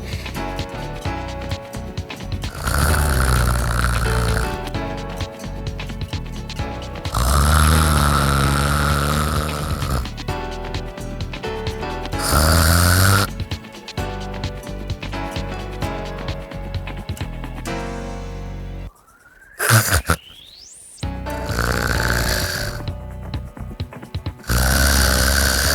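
A voice imitates loud snoring to show the signs of obstructive sleep apnea. Repeated rough, rattling snores come close and loud, then breathing stops briefly, followed by a gasping, choking sound before the snoring resumes.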